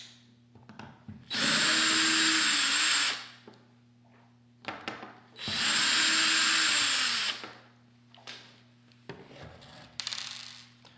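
Power screwdriver backing out two screws from the rear of a Dupray Neat steam cleaner, two loud sustained whirring bursts of about two seconds each, separated by small clicks and handling noises of plastic parts.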